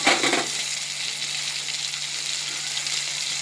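Ginger paste goes into a pan of sizzling spices, onion, tomato and garlic, giving a brief wet splatter at the start that settles into a steady, close frying hiss. Nobody speaks.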